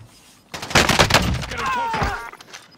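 Bursts of M4 rifle fire in Call of Duty Modern Warfare, a loud rapid string of shots starting abruptly, then further shots and ringing echoes with a player's voice mixed in, close and dominant.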